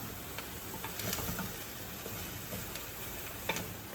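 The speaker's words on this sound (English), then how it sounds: "We are going to put in our pumpkin and potato now." Pumpkin and potato pieces hit a hot pot for soup, producing a steady sizzle with scattered light clicks and taps of chunks and utensil, close and fairly quiet, with no speech.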